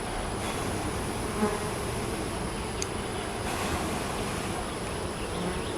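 Dense, steady buzzing of many honey bees swarming close by during a hive inspection, a constant droning hum with a few brief sharper sounds.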